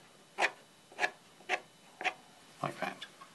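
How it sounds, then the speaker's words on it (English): The end of a brush handle scrapes across wet watercolour paper to lift out tree trunks, five or six short, close rasping strokes at a steady rhythm. "with the end of the brush, and just scrape out some tree trunks"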